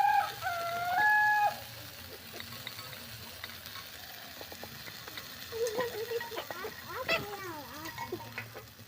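Live chickens cluck near a home kitchen where chicken meat is being cooked. A few close calls come at the start and a louder flurry of clucks follows later, over faint stirring and frying noise.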